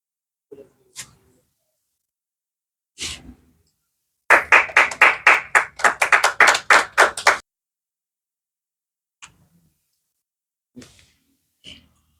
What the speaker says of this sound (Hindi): एक बार भाई तालियां हो जाएं इनके लिए।